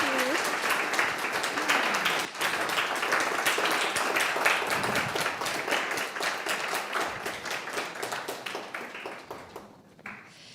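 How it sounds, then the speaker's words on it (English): Audience applause at the Time Space Existence 2021 closing event, a dense, steady round of clapping from a crowd that holds for about nine seconds, then thins and fades near the end. "David, let's give a round of applause."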